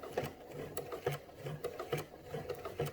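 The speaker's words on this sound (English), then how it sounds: "I'm going to attempt to stitch on this side of the line." A sewing machine stitching in the ditch on a quilt, with a walking foot, running slowly in a steady rhythmic chatter of needle strokes, about three per second, close and alone.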